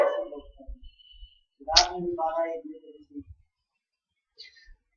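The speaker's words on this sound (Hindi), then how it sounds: "किसका कुत्ता है ये? चिल्ला रहा है कुत्ता इतना?" A dog barks and whines in bursts, moderately close, with a few yelps mixed with faint background speech and clicks, then quiet.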